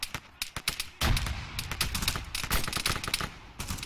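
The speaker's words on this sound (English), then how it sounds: "This is good for them just emptying their ammo." AI soldiers firing guns in a video game, rapid bursts of gunfire cracking in quick succession, some isolated shots and some dense overlapping volleys, loud and close.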